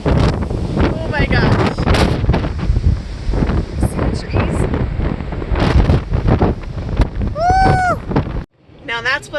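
Strong gusts hammer a microphone beside an RV trailer with heavy, roaring bursts and rattling buffeting, a person exclaiming partway through, before the wind cuts out abruptly near the end.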